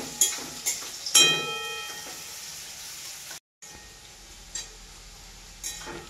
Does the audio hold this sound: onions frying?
yes